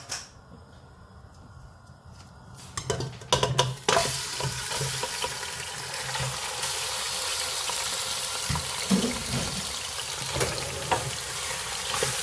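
Lamb meat hits half a cup of hot oil in a karahi and bursts into a loud, sustained sizzle after a few seconds of clattering. The crackling roar then stays even and dense.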